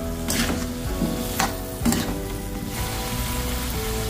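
Steady sizzling and bubbling of a vegetable stew cooking in a pan, close and continuous, with a few soft utensil scrapes.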